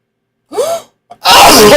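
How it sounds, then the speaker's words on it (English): A person sneezes once loudly and close up, a sharp drawn-in breath followed by a forceful burst. "I'm going to sneeze."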